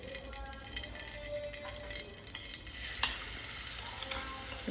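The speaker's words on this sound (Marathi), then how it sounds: "छानपैकी तेलामध्ये थोडंसं परतून घेऊ" A thechha mixture sautés in a little oil on a hot tava, giving a faint, close sizzle with soft stirring and scraping and one sharper clink near the middle.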